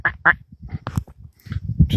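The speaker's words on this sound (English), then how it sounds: "Some ducks landing out there in the pooey field." Ducks quacking over a field where they land, a few loud harsh calls at the start and then scattered squawks and rustling close by, with someone talking quietly underneath.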